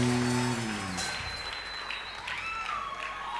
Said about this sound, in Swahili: Somebody clap your hand for Jesus Pigie Christ